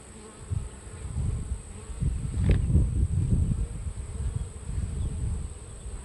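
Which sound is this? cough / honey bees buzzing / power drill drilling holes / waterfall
honey bees buzzing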